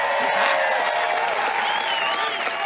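A large crowd at a political rally in Arizona applauds and cheers in a continuous wash of clapping and voices, with a speaker audible over it.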